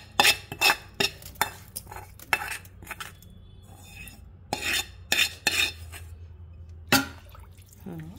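Vegetable biryani rice, already fried, being stirred in a rice cooker pot: repeated sharp scrapes and clinks of a spoon against the metal pot, irregular bursts with soft drips between, close and without talk.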